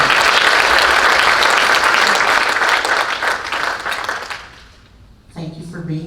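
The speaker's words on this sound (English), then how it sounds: "A round of applause to our panel this evening." A banquet audience applauds its evening panel with loud, thick clapping that thins and fades over several seconds before a speaker's voice comes in near the end.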